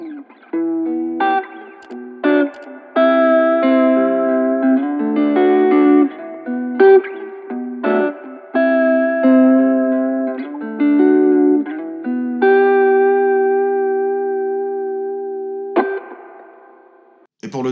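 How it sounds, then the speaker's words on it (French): Plucked guitar notes and chords ring out with a springy, washy spring-reverb tail added to a recorded lo-fi guitar, with a sustained note fading at the end and no talking. "j'ajoute une reverb à ressort au son que j'ai déjà enregistré"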